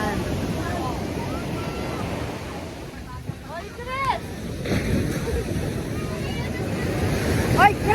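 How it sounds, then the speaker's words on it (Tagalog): Rough surf rolling onto the shore at Bagac Bay beach after rain, a constant close wash of waves with wind buffeting the microphone and voices calling out now and then. "Maalon, guys, kasi umulan"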